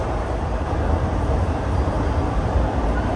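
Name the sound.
train passing by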